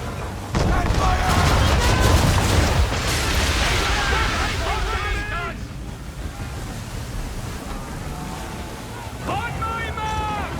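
A ship's cannons fire a broadside in Assassin's Creed 3, a loud rumbling barrage at the start that fades into wind and rushing sea noise, with someone shouting orders over it.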